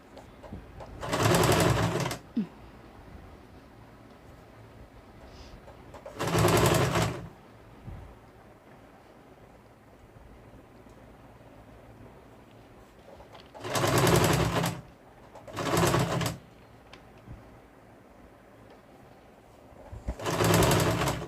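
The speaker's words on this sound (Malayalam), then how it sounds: "ഒന്ന് ടോപ്പ് സ്റ്റിച്ച് അടിച്ച് കൊടുത്ത് വിടണം" A sewing machine top stitches a baby frock, running in five separate bursts of a second or two each, spaced by long quiet gaps, close and clear with no talking.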